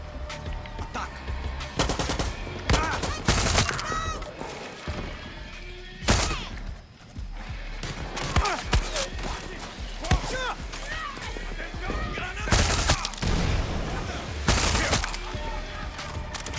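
Far Cry 6 combat with rapid, dense bursts of close gunfire and machine-gun fire, loud and nearly continuous, with someone talking over the shooting.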